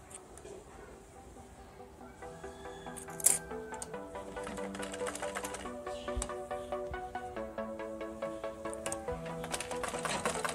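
A sewing machine stitches a single-fold round seam on a baby frock made from fabric scraps, its rapid mechanical whirr starting quietly and building into a steady rhythmic run, with a sharp click early on.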